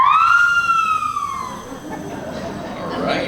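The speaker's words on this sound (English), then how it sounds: "Got a mouth siren." A mouth siren played at a symphony orchestra concert gives a loud, rising-then-falling wail that starts strong and fades over a few seconds, with a faint, muddy rumble of the hall beneath it.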